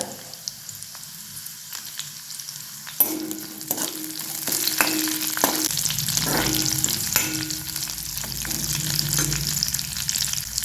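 Chopped green chillies go into a hot pan: a faint hiss suddenly jumps to a loud, busy sizzle with scraping stirs that keeps going to the end.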